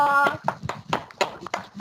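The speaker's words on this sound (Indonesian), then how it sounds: "Okay, one more applause." Students in an online class on Microsoft Teams clap, giving a string of sharp, uneven claps mixed with talking voices.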